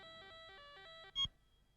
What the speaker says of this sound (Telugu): అమర్, నీ ఫోన్.